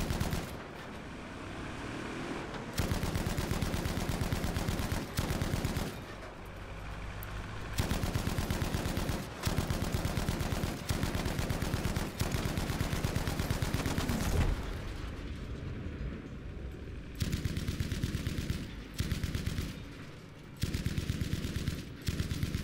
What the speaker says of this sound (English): 30 caliber machine gun